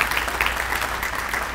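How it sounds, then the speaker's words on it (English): An audience claps for a high school jazz band at an elementary school dedication, a dense, steady patter of applause throughout. "How about a round of applause for them?"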